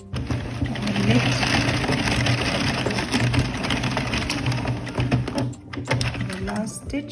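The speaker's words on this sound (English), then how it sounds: "transfer, and knit to complete this row" An addi Express knitting machine knits a row of a simple pullover sweater, giving a continuous rattling, clicking mechanical run for about five seconds with a brief pause, then resuming more faintly.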